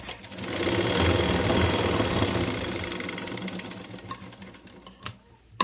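A sewing machine runs steadily as it stitches fabric for a pleated three-piece nightgown. The close, fast whirring continues for several seconds, then slows and ends with a few sharp clicks. Nobody speaks.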